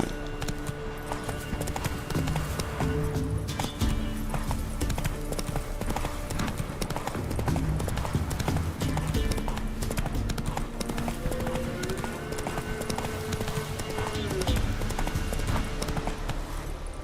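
Hooves pound in a rapid, continuous gallop as Roach, the horse in The Witcher 3, runs, close and steady under a layer of game music and ambience.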